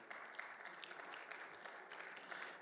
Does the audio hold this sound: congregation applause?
yes